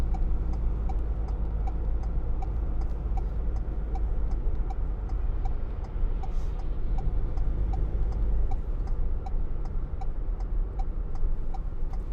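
Steady rhythmic ticking of a 2019 Ford Transit Custom 2.0 TDCi van's turn indicator over the constant low rumble of the van driving, the clicks evenly spaced throughout.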